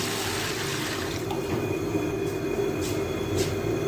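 Jugfuls of water pouring into a pot of rice for simple pulao, a steady close rushing splash that runs continuously at an even level, with no voices over it.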